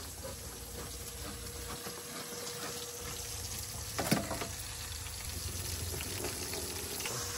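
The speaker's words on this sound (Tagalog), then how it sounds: "buti bumalik na yung tubig" Tap water runs steadily at a home sink as the supply comes back, a continuous low hiss with a brief clatter partway through and no speech.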